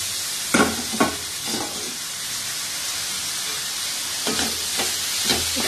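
Capsicum pieces sizzle in a pan with ginger garlic paste and onions, a steady frying hiss broken by a few sharp stirring scrapes and clinks, close by and without talk.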